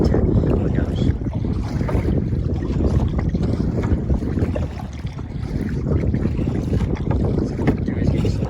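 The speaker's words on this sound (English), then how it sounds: "it's getting so windy now" Strong wind buffets the microphone while kayaking on icy cold water, a loud, steady low roar with splashing and paddle noise throughout, no one speaking.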